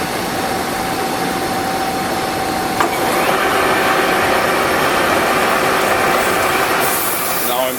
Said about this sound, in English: I've got the lathe set at a very low RPM